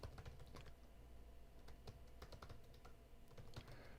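Rapid typing on a computer keyboard, a steady flurry of light clicks and occasional heavier key strikes over a constant low background hum, close and continuous with no talking.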